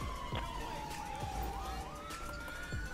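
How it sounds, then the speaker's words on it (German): A police car siren in the GTA video game wails in a steady falling and rising sweep through the clip. Thumps and game noise sit around it, and there are hints of voices. "Bitte mach die Sirene aus."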